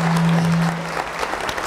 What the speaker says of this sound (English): So give a big round of applause for our mayor, Mr. Mike Foreman.